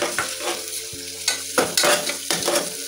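Ginger garlic paste frying in a pan for chicken pulao, a close hissing sizzle broken by spatula stirring and scraping knocks, moderately loud with no voices.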